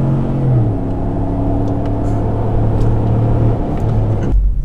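A car engine fitted with a Pedal Commander in Sport Plus mode hums loud and close at a steady idle, with a brief rising rev near the start and a sharp low thump at the very end.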